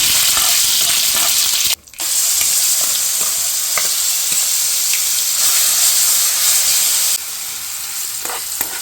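Loud, continuous sizzling and hissing of spices hitting hot oil as tempering is poured into red chilli pickle, with one brief dropout before the crackle resumes.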